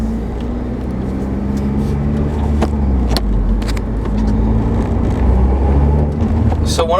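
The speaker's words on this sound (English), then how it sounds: "my car doesn't sound nearly as throaty as before" A car engine fitted with a ram air intake hums and grows throatier as it accelerates, heard from inside the vehicle with people talking over it and a few clicks.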